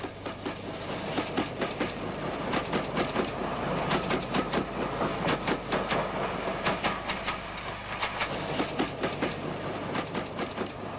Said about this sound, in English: The train almost fully comprised of Great Western coaches.